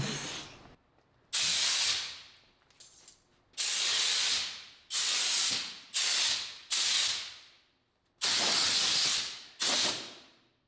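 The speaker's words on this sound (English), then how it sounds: "That's a hell of a lot of air going through there." Loud bursts of compressed air blasting through a fitting in a rotary engine shop, about seven hissing rushes of one to two seconds each, separated by brief pauses.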